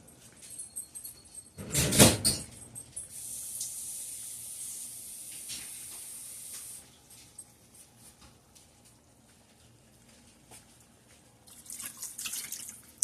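Water runs from a kitchen tap in a steady hiss for a few seconds after a sharp knock, then stops, with a brief second run near the end.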